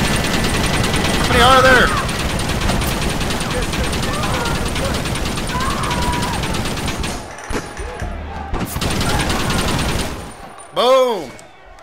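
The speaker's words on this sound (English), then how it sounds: "What about if I go to the Gatling gun?" Gatling gun firing in Red Dead Redemption, a dense loud rattle of rapid shots sustained for several seconds, with someone talking over the gunfire and a sharp burst near the end.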